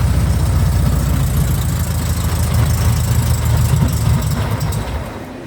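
The engine of a 1973 Volkswagen kit car idles steadily and loud nearby, a low throbbing rumble with a slight knocking beat that eases off near the end.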